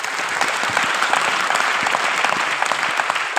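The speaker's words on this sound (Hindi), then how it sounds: "तालियां होनी चाहिए इनके लिए" An audience at an anniversary speech event applauds for a person, with steady, dense clapping from a sizable crowd that stays even and fairly loud throughout.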